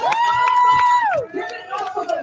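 An audience cheers: a long, loud vocal whoop rises and falls over a murmur of crowd noise, followed by scattered shouts and babble.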